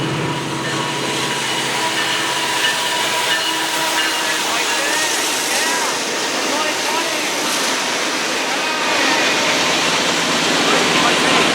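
A locomotive unit sits idling on a Southern Ontario line, its steady broadband engine rumble and hiss holding loud and constant throughout with little change.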